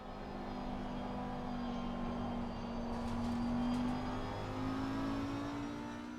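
2019 Audi R8 LMS GT3 Evo 2 race car engine in Assetto Corsa Competizione, a steady droning hum with a slowly rising pitch, sustained and moderately loud with no voices.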